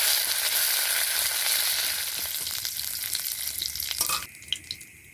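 Panch phoron and curry leaves crackle and sizzle loudly in hot oil, the hiss fading partway before a few stirring scrapes and clatters close by near the end.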